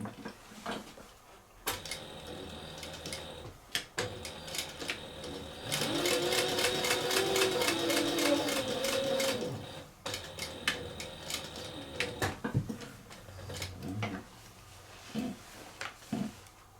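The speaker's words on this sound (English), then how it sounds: "now we want to stitch down this side and this side to help anchor our accent in" A sewing machine stitches down the side of a cork envelope wallet, a steady close whirring run of several seconds framed by quieter clicks, handling and fabric rustle before and after.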